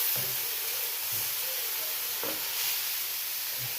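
A tuna steak sizzles steadily in a hot pan just after being flipped, a continuous broad hiss with faint low clinks and knocks underneath.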